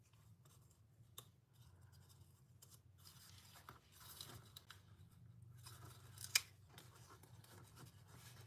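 Scissors trim the edge of cardstock paper for card making, giving faint, close snipping and rustling with a few soft cuts and one sharper snip, quiet throughout.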